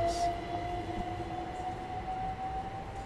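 Train running along its route, a steady rumbling ride with a constant high whine from the running gear, continuous and fairly loud throughout.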